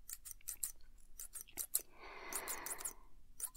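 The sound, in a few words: scissors snipping a velvet ribbon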